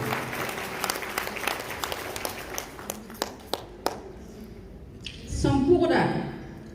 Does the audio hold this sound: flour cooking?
no